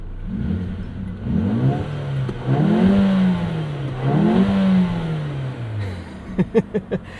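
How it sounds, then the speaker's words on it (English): A 2024 Mercedes CLA 35 AMG with a 2-liter engine and opened exhaust revs repeatedly in rising and falling sweeps, loud and close, ending in a few sharp pops and burbles. "opens up this exhaust and allows you to rev to the moon"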